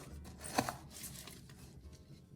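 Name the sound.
scooping soil into a planting pot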